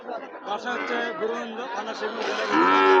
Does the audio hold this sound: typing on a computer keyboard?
no